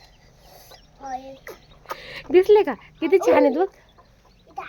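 A mother hen clucks beside chicks hatched that same day, her soft repeated clucks and rising calls close and fairly loud, with people talking over and between them.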